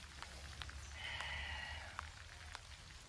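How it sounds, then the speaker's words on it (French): Steady rain falls outdoors, a continuous close patter with scattered sharper drops ticking on surfaces, heard alone with no talking. "j'ai un peu de pluie mais que c'est triste."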